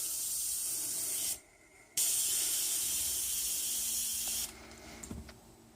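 An airbrush fed by a California Air Tools 2010A ultra quiet oil-free 1.0 HP, 2.0 gallon aluminum-tank compressor, regulated to about 25 psi, hisses in a steady loud spray. The spray breaks off briefly, resumes, then stops near the end.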